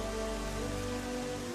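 Rain falls in the final dungeon of The Legend of Zelda: Twilight Princess HD, a steady, dense hiss of drops on surfaces with no break.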